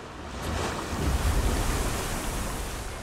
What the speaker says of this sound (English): Look at the water effects in the log flume.